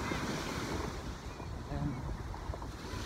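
Rough surf at Dahican Beach surges and crashes continuously, a dense roar of breaking waves mixed with strong wind buffeting the microphone, with faint voices beneath.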